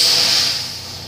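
Freightliner truck setting its air brakes, one sharp hiss of released air close by that fades over about a second.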